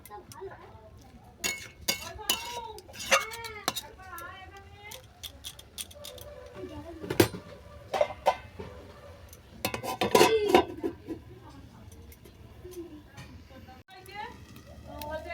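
A plate set down as a lid over a pan of dal with spinach, giving a couple of light ceramic-on-metal clinks and taps amid other kitchen clatter, with someone talking throughout.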